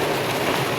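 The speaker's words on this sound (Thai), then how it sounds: "ฝนตกเนาะหอดฤดูเลยพี่น้องเอ้ยฤดู" Dense, even hiss of rain falling steadily on a coffee plantation, a continuous wash of droplets with no voices.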